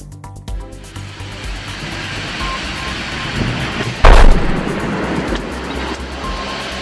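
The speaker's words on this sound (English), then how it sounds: "The vehicle collided head-on into a wall at 55 kilometers per hour." A car crashes head-on into a wall at 55 km/h in a crash test, giving one loud, sharp impact in the middle of a steady rumbling background, close and without talk.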